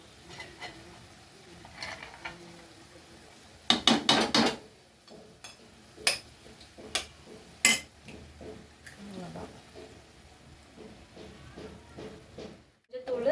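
An egg is tapped and cracked against a hard edge in a home kitchen while making egg bhurji, a few sharp clicks and knocks scattered among utensil clatter, with a person speaking throughout.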